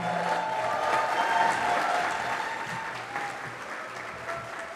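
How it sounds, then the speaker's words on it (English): A luncheon crowd at a large national conference claps steadily for welcomed affiliates, a broad, even wash of applause that swells slightly and then eases over several seconds. "A big round of applause"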